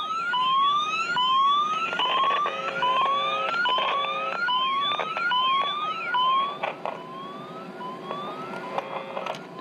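A phone line tone tracer on a shorted wire gives a warbling electronic tone that sweeps upward over and over, then shifts pitch and pattern partway through. It sounds close and steady, with faint clicks and no talk.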